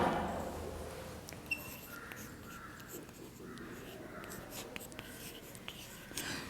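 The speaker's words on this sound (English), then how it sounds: "So I will write one example of decimal number." Chalk or marker scratching on a classroom board while writing a decimal number, a series of faint, intermittent strokes and taps over quiet room noise.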